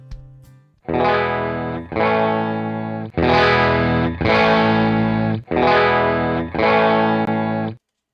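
Guitar amps played in turn through the same Deluxe speaker and cabinet, giving six sustained, distorted chords with effects, each held about a second with short gaps, loud and clear with no talking.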